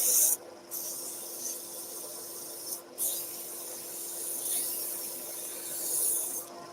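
Steady abrasive hiss of sandpaper rubbing against spinning driftwood on a lathe, continuous and close, with a couple of brief louder rasps.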